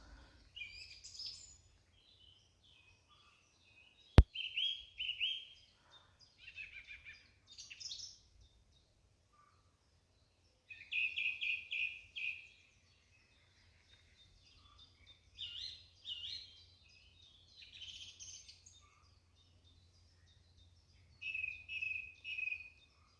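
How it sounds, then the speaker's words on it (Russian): Morning birdsong in a May forest near a dacha in the Kursk region: bright, repeated song phrases come in bursts separated by near-silent gaps, with a faint low hum underneath and one sharp click early on. No one speaks. "Слушаем утренний лес"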